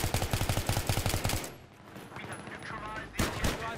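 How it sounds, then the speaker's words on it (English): Rapid automatic gunshots in a tactical shooter game, a loud, evenly spaced burst of about a dozen rounds, then quieter background rumble and a final sharp report. "I shot two of them at C."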